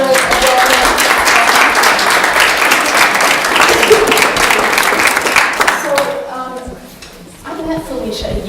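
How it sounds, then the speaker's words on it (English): An audience applauds a mentor and coach named Felicia in a room, a dense sustained round of clapping that fades out after about six seconds, with a few voices and faint talk emerging underneath as it dies. "Let's give her a applause."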